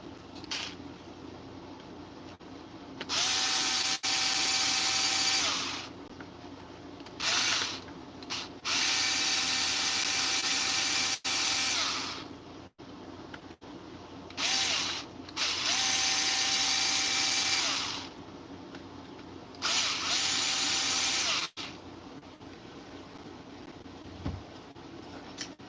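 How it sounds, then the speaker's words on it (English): Power screwdriver or drill ratcheting out the four screws on the back piece of a Redcat TRMT8 RC truck, several whirring bursts separated by pauses, close and fairly loud with no talk. "it's just the 4 screws now that we're going to take off of this back piece here"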